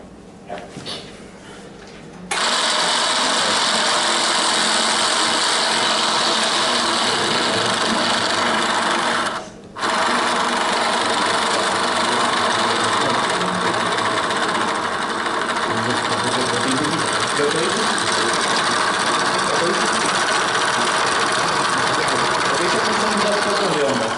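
A small motor in a waves-and-vibrations workshop runs steadily, driving two vibrating sources at once; a loud continuous buzzing drone starts after a quiet moment, cuts out briefly, then resumes and holds steady throughout.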